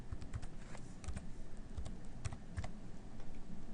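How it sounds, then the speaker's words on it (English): Steady typing on a computer keyboard while an ID number is entered into faculty ScoreCard software: quick, irregular key clicks run continuously and fairly softly, with no voice over them. "Typing in the ID number,"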